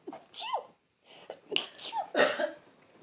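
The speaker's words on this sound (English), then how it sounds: "Sneeze" A sharp sneeze bursts out close up, surrounded by breathy, throaty vocal noises.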